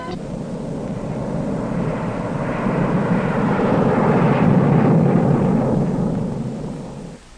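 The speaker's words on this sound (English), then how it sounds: "Specially instrumented aircraft fly the tests that verify what happens inside a weapon" A specially instrumented Air Force test aircraft passes overhead in 1960 nuclear weapons test footage, a loud broadband engine roar that swells over several seconds and then fades, with no talk.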